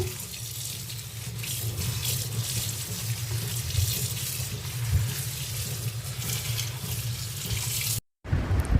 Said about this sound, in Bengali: পাট শাকগুলো আমি ধুয়ে নিচ্ছি একটা চাউনির মধ্যে দিয়ে দিয়েছি